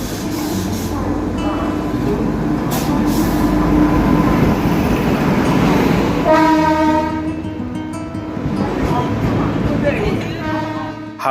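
An express passenger train pulls into a busy junction at night, with a loud rumbling roll and clanking wagons joined by a long, layered horn blast partway through, while station crowd noise and announcements sound faintly in the background.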